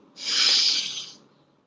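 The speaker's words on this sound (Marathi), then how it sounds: "श्वास अशा पद्धतीने घ्यायचा" A single deep breath taken during a meditation breathing exercise, one long airy rush close to the mic that swells and fades over about a second, with no talking.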